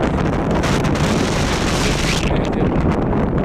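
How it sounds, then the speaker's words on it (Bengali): Strong gusting wind blows over a small river, the Balu, near Pubail in Gazipur during a sudden storm, a dense continuous roar with heavy microphone buffeting throughout, near and loud with no voices. "এরকম ছোট্ট নদীতে এরকম বাতাস, ভয়ঙ্কর সৌন্দর্য।"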